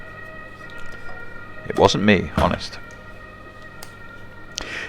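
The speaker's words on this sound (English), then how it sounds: "I apologise for the sirens in the background." Emergency vehicle sirens wail in the background of a kitchen while a cook blends basil and tomato, the rising and falling tones loudest mid-clip and then fading, with someone talking over them.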